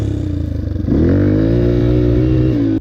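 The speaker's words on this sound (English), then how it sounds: "I see a lot of new riders, they whack the throttle because, I don't know, you like the sound of it and you want to go fast." A dirt bike engine idles with a lumpy beat, then surges into a loud, steady rev as the throttle is snapped open, held high close up before cutting off at the end.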